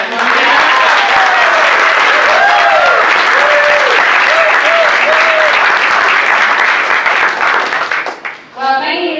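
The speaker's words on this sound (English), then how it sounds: "can we get a round of applause for Uncle Matt and that beautiful family?" Wedding guests give a loud, sustained round of applause and cheers close by, with voices calling out over the clapping before it tapers off at the end.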